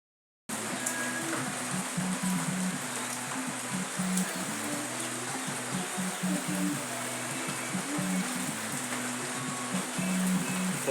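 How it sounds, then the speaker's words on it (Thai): Steady rain falls on a rural road during the rainy season, a dense continuous hiss of drops with a low rumble underneath, constant and fairly loud throughout. "ฝนยังยิบอยู่เลยทุกคน"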